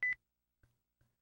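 A phone call in the sound novel game 街 -machi- cuts off with one short, clear electronic beep, followed by two faint clicks in near silence.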